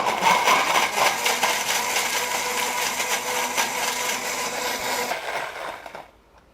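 A kitchen blender runs continuously at high speed, pureeing tomatoes into a smooth base for homemade chili paste, a steady dense whir that holds for about five seconds before cutting off abruptly.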